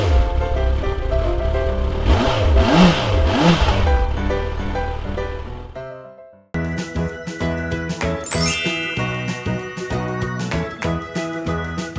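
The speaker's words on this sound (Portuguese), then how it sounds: "Sobe na moto, George!" A cartoon motorbike revs up with a rising, wavering engine whine, cuts off, and then gives way to a bright musical jingle with tinkling notes.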